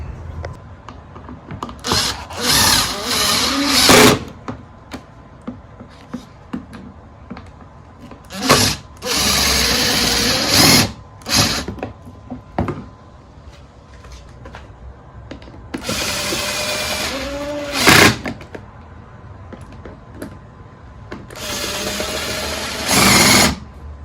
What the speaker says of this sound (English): let's finish up, tighten up the 4 bolts